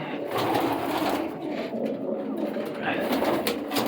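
Pigeons coo in a loft holding Old Polish and German show breeds, a dense, close chorus of soft throaty calls. Someone talks over them.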